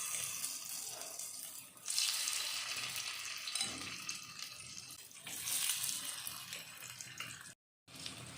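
Mushrooms coated in masala sizzling in about three spoons of hot oil in a pan, a steady broad frying hiss that swells in two louder bursts, with a brief dropout near the end; no talking.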